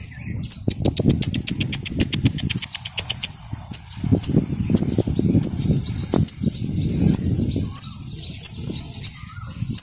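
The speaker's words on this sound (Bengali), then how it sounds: "এই যে বিশাল এক পাখির বাচ্চা, কি করবো এখন?" Rapid, high chirps from a baby bird on a street repeat steadily over a low rumbling engine, with a brief pause partway through.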